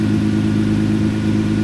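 A Toyota car engine idles steadily with a fresh battery after the old five-year-old one died, a loud, continuous low hum with an even, close running tone and no talking.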